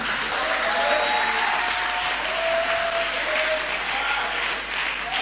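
A church congregation applauds the Lord, loud continuous clapping from many people filling the room, with faint cheering or tones threaded through.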